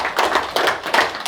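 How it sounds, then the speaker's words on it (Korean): A lecture audience claps briefly in several quick bursts, close and fairly loud, with no talking. "공감은 박수 한번 쳐주세요."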